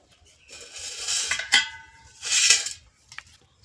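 Potatoes being washed by hand in a bucket of water, giving two broad swishing bursts of sloshing and rubbing with faint clinks of the pail, close and alone with no talking.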